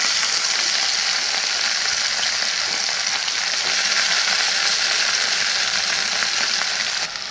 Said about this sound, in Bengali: তো এখন আমি পেঁয়াজগুলো একটু ভাজা করে নেব